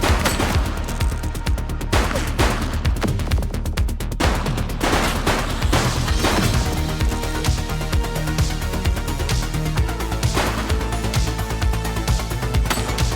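Rapid gunfire from the police video game The Precinct, dense overlapping bursts of shots and impacts over a constant loud low rumble, with no talk.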